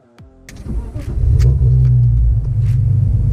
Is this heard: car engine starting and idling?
yes